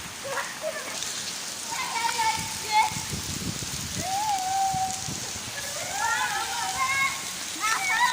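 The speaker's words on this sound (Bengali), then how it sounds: "আমরা পুরো এখন বৃষ্টিতে ফুল মজাতে আছি" Steady rain hisses throughout while people talk and laugh nearby.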